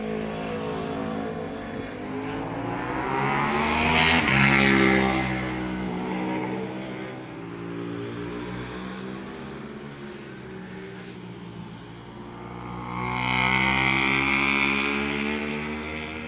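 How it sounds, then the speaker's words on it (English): Ducati Panigale V2 fitted with a Termignoni race exhaust, a loud, rich engine roar rising and falling through revs across the whole stretch, with two stronger surges, heard alone without talk. "the reason why people will go for the Termi exhaust is, not only does it look awesome,"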